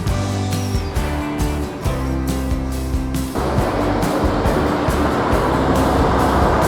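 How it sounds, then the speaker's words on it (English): Train pulling into a Welsh railway station, a loud broad rumble with low tonal engine hum that swells into a dense roaring wash as it arrives close by, no talk over it. "Train's here."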